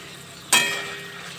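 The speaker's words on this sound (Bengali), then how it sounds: "পনিরটা ভাজা হোক" Paneer pieces in hot oil: a sudden loud hiss bursts out after a short quiet stretch, then eases into a softer sizzle that fades slowly.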